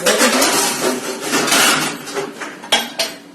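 Utensils clatter and clink as they are tidied up in a home kitchen, with a run of overlapping metallic knocks followed by two sharp separate clanks near the end.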